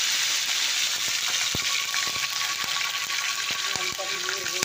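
Cumin, mustard seeds and curry leaves sizzle and crackle steadily in hot oil, close and loud, with sharp popping bursts scattered throughout.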